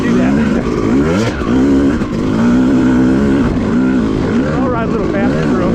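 Yamaha YZ250 dirt bike rides through whoops on a wet woods trail, its two-stroke engine revving up and down in close, loud rising and falling waves, with a voice talking over it.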